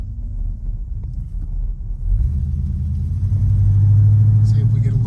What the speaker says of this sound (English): Cold start, as you can see.